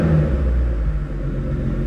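A 2013 Mustang fitted with an X-pipe exhaust rumbles close by, its deep engine note holding around 3,000 RPM in a brief steady rev.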